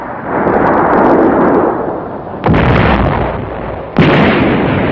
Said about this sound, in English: One night, in the bay, an ammunition ship was hit.